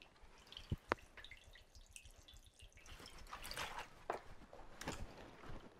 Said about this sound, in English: I'm going to use my claws to lift my fabric up, let it drain